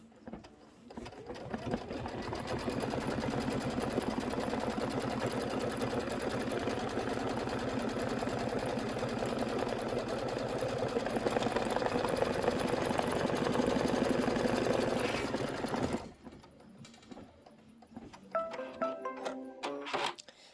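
An embroidery machine stitches a placement line on fabric with a rapid, steady mechanical chatter that runs loud and close for about fifteen seconds, then stops, followed by quieter handling clicks.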